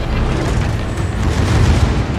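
An enemy battleship blowing up in a naval combat video game, a loud, sustained rumbling boom that stays heavy and dense throughout, with no speech.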